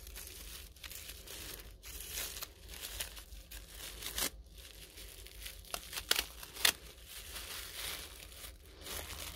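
Small boxes holding tree peony roots are opened close up: quiet cardboard and paper crinkling, rustling and short tearing sounds in an irregular stream, with a few sharper crackles.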